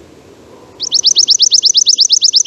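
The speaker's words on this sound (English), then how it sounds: "Now the chipping sparrow." A chipping sparrow sings one fast, dry trill of evenly spaced, closely packed high chirps, loud and close, starting after a brief quiet pause and running steadily to the end.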